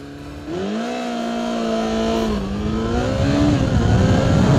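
A stock Kawasaki ZX-14 motorcycle launches down a quarter-mile drag strip, its engine revving hard through rising pitch sweeps with a quick shift, growing louder and closer.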